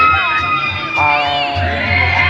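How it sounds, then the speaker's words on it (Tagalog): Riders on a swing ride at Enchanted Kingdom amusement park scream and shriek loudly together, a dense wash of overlapping high-pitched voices rising and falling over a steady crowd background. "maingay dahil nga doon sa sigawan nung mga nakasakay. Nagtitilian sila"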